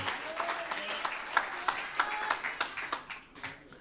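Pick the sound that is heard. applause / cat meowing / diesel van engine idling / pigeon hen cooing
applause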